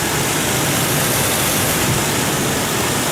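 A Ford 4.0L engine runs steadily close to the microphone, a loud, dense, unbroken rumble and wash of noise with no one talking.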